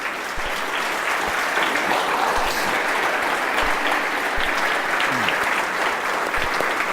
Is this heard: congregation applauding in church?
yes